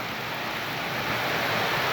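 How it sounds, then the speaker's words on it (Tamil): Heavy rain pouring at Papanasam in Tirunelveli district, a dense, steady hiss of downpour that stays loud and unbroken throughout, with no voices. "திருநெல்வேலி மாவட்டம் பாபநாசத்தில் பதிமூணு பன்னெண்டு இருபத்தி நாலு அன்று பெய்த கனமழையை பாருங்கள்"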